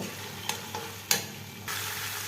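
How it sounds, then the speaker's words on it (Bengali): Pakistani-style chicken (cock) is stir-fried bhuna-style in a pan. Two or three sharp spatula scrapes and clacks break through a continuous close sizzle, and the frying hiss swells louder toward the end. "আমি এই মাংসটাকে আরও কিছুক্ষণ ভুনে নিব"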